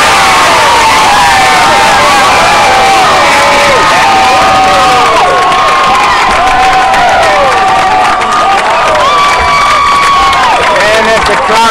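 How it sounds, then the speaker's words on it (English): A home crowd at a high school state semifinal baseball game between Geneseo and Voorheesville roars and cheers wildly, with sustained loud shouting, whoops and screams filling the whole stretch, while a commentator's voice sits under the din. "And as the crowd goes wild, a gutsy performance from Ben Kelly."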